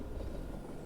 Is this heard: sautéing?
no